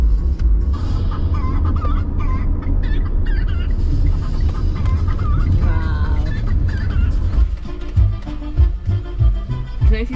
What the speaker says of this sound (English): Can I see the dancing chicken?